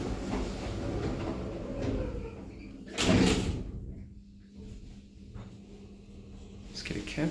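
Hydraulic elevator doors in an Oakland lift in a Belfast building slide with a rumbling mechanical glide and a sharp bump as they meet, then quieter motor hum and a second door movement at the end.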